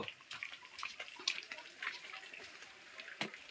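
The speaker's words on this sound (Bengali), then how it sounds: "জলটা নামতে কিছুটা সময় লাগবে" Water from a goldfish aquarium draining into a floor drain, a soft continuous trickle and splash with faint tap-like gurgles, quiet and steady with no voices.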